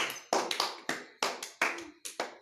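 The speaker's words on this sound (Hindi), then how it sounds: "सारे बच्चे उसके लिए जोरदार तालियां बजाइए।" A group of children clapping for a student's correct answer in a classroom, several quick sharp bursts of applause, close and unaccompanied by speech.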